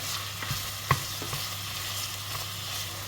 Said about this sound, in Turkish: Bunların hepsini yine şöyle güzelce bir soteleyelim.